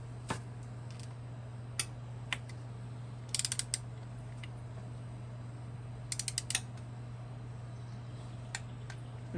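Ratchet tightening the drain plug on a 2021 KTM 250 XC-W, sparse clicks and two brief rapid clicking runs over a low steady hum, close and fairly quiet.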